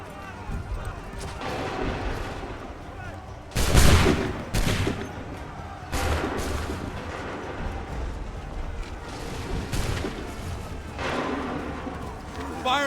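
Volleys of musket fire from ranks of soldiers in Assassin's Creed III ring out in loud, sharp bursts at irregular intervals, with shouted commands heard between them over a busy battlefield.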